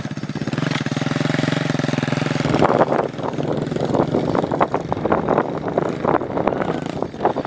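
A motorcycle engine idles and is given a little gas outdoors with a steady throbbing chug close by, then gusts of wind rumble hard against the microphone and largely mask it.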